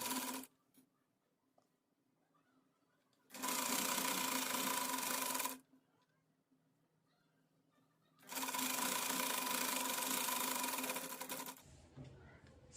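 A sewing machine stitches the corner of a frock's lining after a half-inch fold, running in two loud, steady bursts of about two and three seconds, separated by quiet pauses with faint handling sounds.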